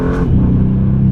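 A 2025 Bentley Continental GT Speed's twin-turbo V8 engine gives a short, loud, rumbling rev that swells and settles, heard alone.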